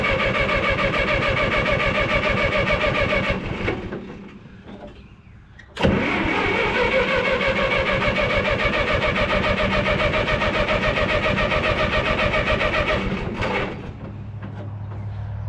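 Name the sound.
old car engine being started after a tune-up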